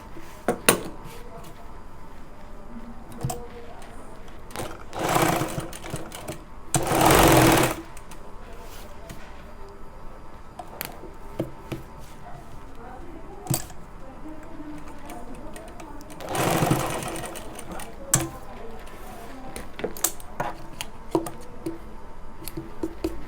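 A sewing machine runs in short bursts while stitching the pocket of a pajama, rattling loudly for a few seconds at a time between quieter ticking and handling clatter.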